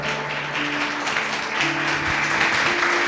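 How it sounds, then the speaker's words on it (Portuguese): A church congregation claps loudly and steadily during a service, a dense, sustained wash of applause with faint tonal hum underneath. "Louve a Deus com suas palmas,"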